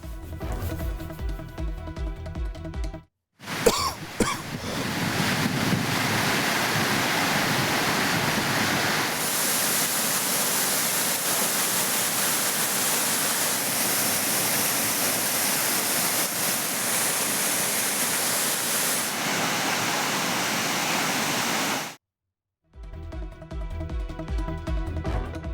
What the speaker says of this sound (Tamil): மேற்கு தொடர்ச்சி மலைப்பகுதிகளில் பெய்த கனமழையின் காரணமாக குற்றால அருவிகளில் நீர்வரத்து அதிகரித்துள்ளது